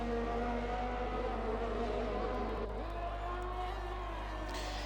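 McLaren and Alpha race cars lapping in the iRacing sim at Hungary: engine whine holds steady and then shifts pitch as a car changes gear, loud and continuous, with a faint crowd-like wash underneath.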